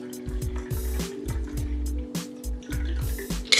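A cocktail is poured through a strainer in short, repeated bursts of liquid splashing and gurgling into a glass, close and fairly loud, with small clinks between pours and a sharper knock at the end.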